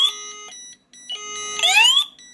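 INIM addressable fire suppression panel with its two alarm sounders activated, giving loud electronic tones: steady pitched beeps, then a rising sweeping siren tone near the end, with no talk.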